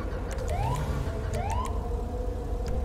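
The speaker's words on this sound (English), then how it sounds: "Don't mind the siren." Police car siren from the LSPDFR police game, a steady wailing sweep rising and falling twice, loud and continuous throughout with no talk over it.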